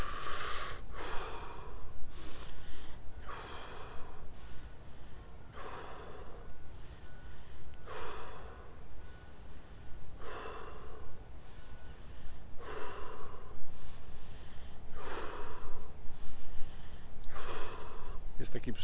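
A person breathes deeply over and over in the Wim Hof method, each forceful inhale and exhale coming at a steady rhythm close to the mic, with talking now and then between the breaths.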